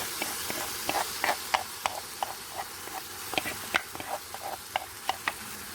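Dal curry (parippu) being stirred and fried in a pan, with repeated clinks of a spoon against the pan at an irregular rhythm over a steady low sizzle and hiss, close by and fairly quiet, with no talking.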